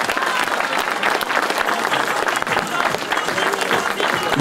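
Spectators applaud at the SSV podium ceremony of the Plaines et Vallées 2017 rally, a sustained, dense crowd clapping with some crowd noise mixed in.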